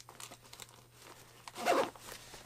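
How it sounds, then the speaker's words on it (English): Zipper being pulled closed on a small DIY Dyneema cuben fiber ripstop pouch, a short bright zipping burst near the end after quieter handling rustle, close and fairly loud. "Zips back up."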